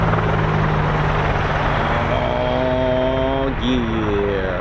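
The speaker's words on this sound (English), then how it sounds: "it sounds like we've got the CV-22 taxiing this as well" A CV-22 Osprey tiltrotor aircraft taxis at an RAF airfield, giving a loud, steady rotor and engine roar with a rising whine laid over it.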